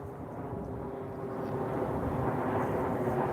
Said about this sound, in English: sorry for the airplane